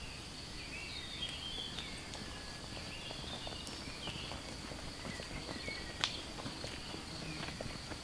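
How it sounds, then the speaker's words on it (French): Soft, steady footsteps recorded as a film sound take plod along at a regular pace over a constant outdoor hiss of insects, with faint birds in the distance. "bruit de pas"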